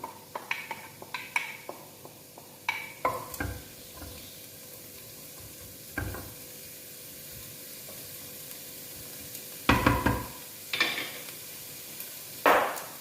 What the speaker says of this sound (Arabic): من بعد ما خليت داك البصيلات تشحر